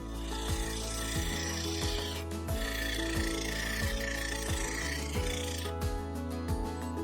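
Woodturning lathe cutting a cherry and marbled white resin bowl, a rhythmic scraping, rasping hiss with regular knocking pulses from the spinning blank, close and steady with brief pauses.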